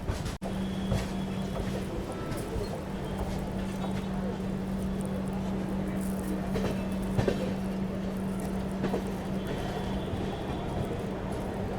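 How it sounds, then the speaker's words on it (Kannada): The Pune–Kanyakumari Express rolls into Tirupati railway station with a steady low rumble and hum, sharp clanks here and there, and voices talking over the running noise. "ಎಂಟ್ರ್ ಆದೀವಿ ನಾವೀಗ ತಿರುಪತಿ ರೈಲ್ವೆ ಸ್ಟೇಷನ್"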